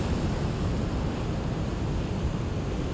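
Ocean waves slap and wash in a continuous dense roar of surf, broadband and steady with no pauses or voices.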